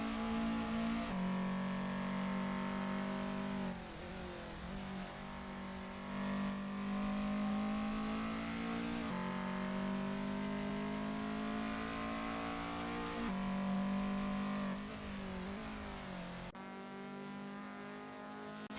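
A race car engine droning steadily on an out lap in a sim racing golf cup race, loud and close from the cockpit, with a few brief lifts and gear changes breaking the sustained tone.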